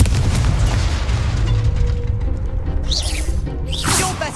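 A Confringo blasting spell explodes in Hogwarts Legacy with a deep booming burst that rolls and fades, followed by sharp whooshing spell effects and bright sparkling bursts.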